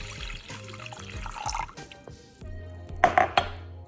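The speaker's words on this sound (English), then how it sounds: "we're going to add 4 cups of water." Water poured into a cooking pot for grits on a kitchen stove, a splashing, clinking stream with some metallic pot knocks, close and fairly loud, no talking.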